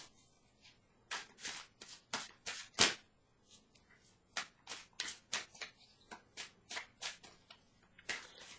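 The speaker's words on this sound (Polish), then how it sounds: "Karty zaraz będą potasowane." Tarot cards being shuffled by hand, a series of crisp riffling bursts and soft slaps in irregular rhythm, close and fairly quiet, with short pauses between shuffles and no talking.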